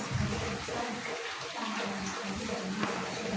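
Water poured a little at a time into flour being soaked for dough, a soft close trickling and splashing running steadily in the bowl.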